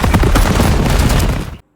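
Gunfire from a film shootout scene bursts out in rapid, dense volleys, loud and continuous throughout before cutting off abruptly into silence near the end.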